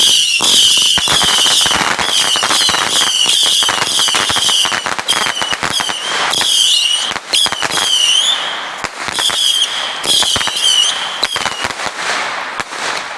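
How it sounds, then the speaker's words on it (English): A Black Cat 250-shot Saturn missile barrage firework fires at night in a fast, nonstop stream of whistling launches and sharp crackling pops. The bursts are loud and close, with no voices. "250-shot Saturn missile base. This is our missile barrage or Saturn missile barrage."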